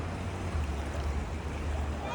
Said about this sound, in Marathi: अंत नितळ पाण्याचा प्रवाह